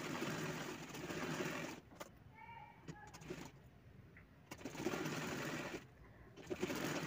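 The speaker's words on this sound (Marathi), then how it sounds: "त्यानंतर पुन्हा एक शिलाई घ्यायची आहे आपण कॉर्नरला, एकदम कॉर्नरला शिलाई घेणार आहोत दुसरी." A sewing machine runs in several fast stitching bursts with short pauses between them, close and steady, sewing a second line of stitches at the corner of a kurti sleeve hem.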